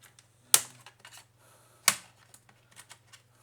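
Plastic tabs on a 2014 HP Pavilion notebook keyboard being pried loose, two sharp loud snapping pops about a second apart, followed by faint small clicks and taps.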